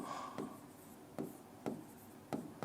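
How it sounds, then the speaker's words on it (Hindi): Chalk or marker strokes on a board while working a simple-interest maths problem, four or five distinct scratchy strokes spaced about half a second apart, close and fairly quiet with no talking. "अब देखो पूरा लिखता हूं इसको"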